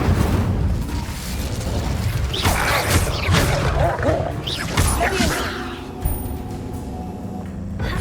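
Incendio fire spell cast during combat in Hogwarts Legacy, a loud burst of whooshing, crackling blasts with booming impacts over several seconds, under game music and voices.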